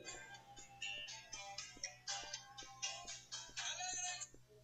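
A mobile phone ringtone playing a melodic tune of repeated bright notes in a steady rhythm, going off during a church sermon and sounding alone.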